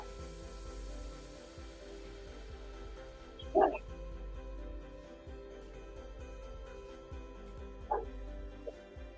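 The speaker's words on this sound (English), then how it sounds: "Sorry about the dogs." Dogs barking loudly from another room, a couple of muffled bursts at a distance over a constant background hum, with talk in the room.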